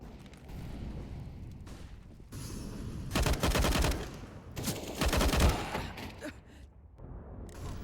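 In a video game, a thrown flashbang and grenade go off as two loud bursts of crackling blast noise a couple of seconds apart, with quieter rumbling between them.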